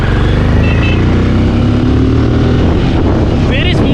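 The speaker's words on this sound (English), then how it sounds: "very smooth engine. This is 400cc engine." A 2021 Benelli Imperiale 400 BS6 motorcycle with a 374cc single-cylinder engine runs close by, a loud steady throb and rumble with a rising rev toward the end, buffeted by wind noise.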